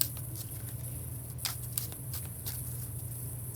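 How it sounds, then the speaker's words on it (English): A deck of tarot cards is shuffled by hand, giving a series of soft riffling and flicking bursts over a low steady background hum, close and fairly quiet. "as I shuffle these cards back into the decks"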